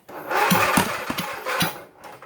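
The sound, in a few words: V-twin engine on a Sears GT18 lawn tractor trying to start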